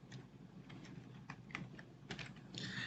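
Quick, light taps on a PC computer keyboard, a short irregular burst of keystrokes close to the microphone, fairly quiet against a faint background hum.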